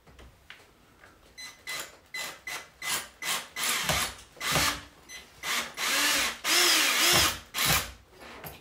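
A power drill bores a hole in a wall for a curtain rod bracket, in a series of short whirring bursts that grow longer and louder toward the end, close and without talk.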